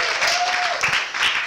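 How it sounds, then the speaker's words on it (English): An audience at a lip enhancement demonstration applauds, a dense patter of clapping that carries through the whole short stretch, with a brief voice over it. "I think Courtney deserves a round of applause"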